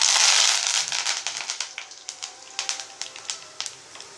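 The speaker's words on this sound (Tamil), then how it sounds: "கடுகு பொரியும் போதே நம்ம கருவேப்பிலை போட்டுக்குவோம்." Mustard seeds and curry leaves crackle and spatter in hot oil while a spicy garlic chutney is cooked, starting with a loud sizzling burst and settling into sharp, irregular pops close by.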